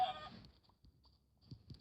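A chicken in the mobile video game Minecraft PE clucks a few short, soft times at low volume, with quiet in-game ambience in between.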